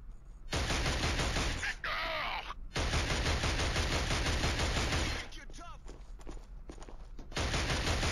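Heavy sustained gunfire from the Killzone video game, loud dense bursts of automatic fire with brief pauses and lulls, close and continuous across most of the stretch.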